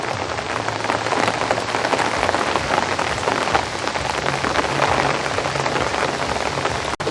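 Steady rain falls on a summer garden where purple loosestrife stems bend under the water, a continuous close hiss of drops that stays even throughout, with no voices.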